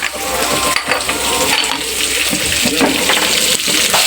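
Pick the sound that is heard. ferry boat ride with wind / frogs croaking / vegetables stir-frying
vegetables stir-frying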